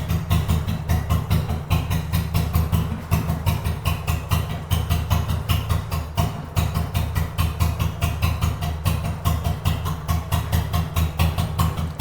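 Motorcycle engine idling smoothly at a two-wheeler dealership, a close, steady low rumble with an even, rapid pulsing rhythm that continues unbroken and alone throughout.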